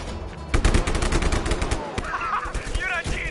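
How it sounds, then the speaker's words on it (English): Gunfire in the video game Just Cause 2, with rapid bursts of shots over a dense, loud backdrop of game noise and some speech mixed in; a tank cannon is the source of the firing. "I bet the cannon still works."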